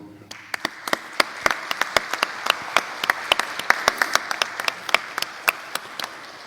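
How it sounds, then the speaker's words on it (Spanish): A few people clap at a closing session of a congress on contract management and public procurement, sharp separate hand claps in an uneven rhythm that run steadily throughout, fairly close and with no voices over them. "a ellos un gran aplauso, por favor"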